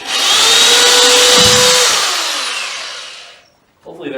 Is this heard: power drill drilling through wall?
yes